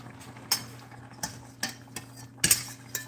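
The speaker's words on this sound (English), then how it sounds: "I'm going to just give it a stir" Metal utensil scraping and clinking against a pot while stirring leftover turkey, several distinct knocks spaced irregularly over a low steady hum, close by with no talk.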